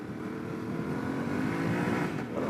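A Yamaha T700 motorcycle engine revving steadily in its mid-range, a close, moderately loud buzzing drone with a slight rise toward the end.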